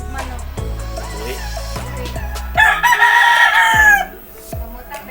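A nearby rooster crows once loudly in the middle, rising and holding before cutting off, amid household clatter and a low hum.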